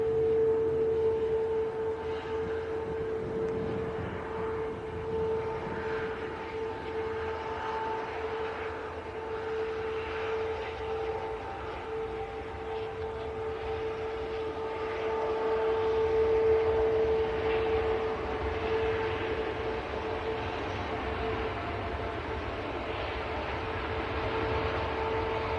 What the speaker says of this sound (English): Here goes Etihad to Abu Dhabi.